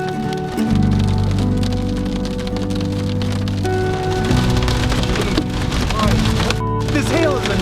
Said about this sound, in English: This hail is enormous.